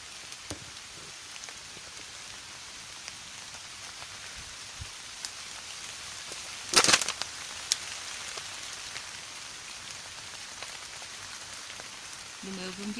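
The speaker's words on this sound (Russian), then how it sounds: "Слышите, как дождь идет?" Rain patters steadily outside a campfire shelter, a constant soft hiss with occasional close drips and one sharper knock midway, no voices over it.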